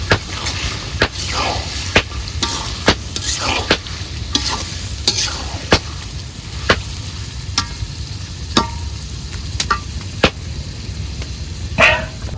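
Beef for tehari stirred in a cooking pot, a low bubbling sizzle broken by sharp, regular scraping knocks of the ladle against the metal, close up and without talk.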